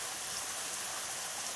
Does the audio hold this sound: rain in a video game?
yes